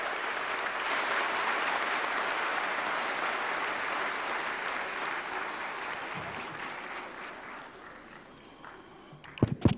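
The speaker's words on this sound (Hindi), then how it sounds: "माननीय उपराष्ट्रपति महोदय का जोरदार तालियों के साथ स्वागत करें।" Loud, sustained applause from the audience at a national crafts awards ceremony welcomes the Vice President, a dense wash of clapping that gradually thins before a few sharp knocks near the end.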